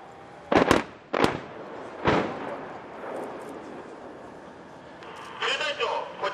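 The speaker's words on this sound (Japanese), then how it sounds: "投射した爆薬ブロックの爆発で地雷を爆破処理することにより" Several sharp, loud blasts go off in quick succession as rocket-launched mine-clearing explosive charges detonate at the Fuji live-fire exercise, each followed by a rumbling tail, with a voice speaking faintly between them.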